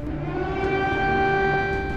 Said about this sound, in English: Air raid sirens in Kiev